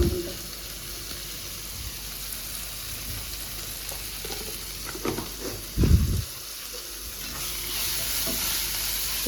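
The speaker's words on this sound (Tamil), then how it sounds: "இஞ்சி பூண்டு பேஸ்ட்டு போட்டு நல்லா வதக்கு வதக்கு வதக்கு" Ginger garlic paste sautéing in a pan for a Sunday mutton and intestine fry, with a steady sizzle, scattered scraping stir strokes and a heavier clatter of the spoon near the middle.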